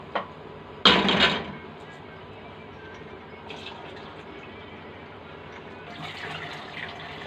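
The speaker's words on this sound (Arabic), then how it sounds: "هقوم ايه مزوده بكوبايه ميه كده" A cup of water poured into a pot while cooking koshari, a loud splashing pour lasting about half a second, followed by quiet simmering and a few softer liquid sounds.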